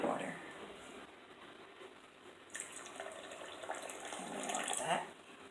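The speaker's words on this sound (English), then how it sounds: "Then we're gonna add our water." Water poured into a peanut punch mixture of peanuts, cinnamon, vanilla and white rum, a steady running pour with splashing that swells toward the end before stopping, fairly close.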